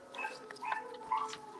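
Bentley, a dog at the Dogtopia Edmonton daycare, lets out a few short, close barks and yelps in a bright indoor room.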